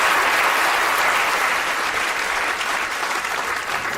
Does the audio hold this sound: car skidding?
no